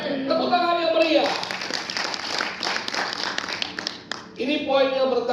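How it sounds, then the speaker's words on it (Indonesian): A church congregation breaks into lively applause mid-sermon, a busy spread of clapping that swells between stretches of the preacher's voice at the start and the end. "Tepuk tangan yang meriah."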